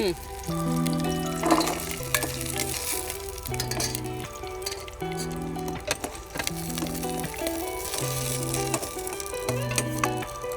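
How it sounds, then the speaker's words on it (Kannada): Garlic frying in a pan for mutton or country chicken sambar on a cookery show, a continuous sizzle with occasional clinks running under background music. "ಫ್ರೈ ಮಾಡ್ಕೊಳ್ಳೋಣ ಇದು ಬೆಳ್ಳುಳ್ಳಿ ಹಾಕೊಳ್ಳೋಣ"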